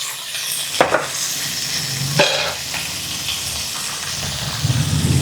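Small onions (shallots) drop into hot oil for Kerala sambar, giving a close, steady sizzle and hiss with a few sharp stirring scrapes and clatters over it.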